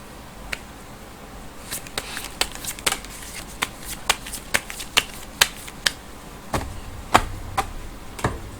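Tarot cards are handled and shuffled, giving a run of crisp, close snaps and flicks in an uneven rhythm over several seconds with no talking.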